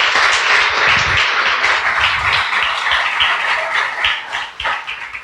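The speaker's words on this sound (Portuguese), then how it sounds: "Você pode dar uma salva de palmas para Jesus?" A church congregation applauding for Jesus during a sermon, a steady wash of many hands clapping that holds loud and even before thinning toward the end.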